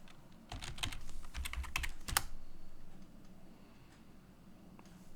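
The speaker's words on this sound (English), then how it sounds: "I know for sure I'm typing the password incorrectly" A password is typed on a computer keyboard at a Linux terminal: a quick, close burst of about a dozen crisp keystrokes, then quiet room tone.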